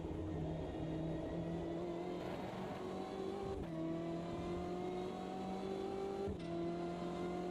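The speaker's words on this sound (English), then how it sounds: "Did you hear the traction control coming in there when I'm getting on the accelerator a bit?" Steady engine drone of a racing car in the Automobilista 2 sim under acceleration, with brief dips and stutters in the tone as traction control cuts in, heard alone without talk.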